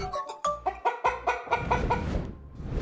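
A chicken clucks in a quick run of about eight sharp, rising calls, close and loud, then trailing off into a softer rustle.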